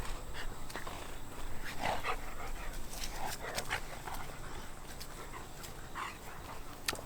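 German Shepherd dogs making faint whimpers and small yips with soft movement around them, quiet and intermittent, moderately close.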